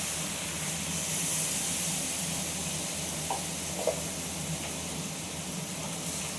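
Water poured into a hot pan of ground poppy seed paste gives a steady, close hiss of steam and sizzle that holds evenly throughout, with a couple of faint small clinks.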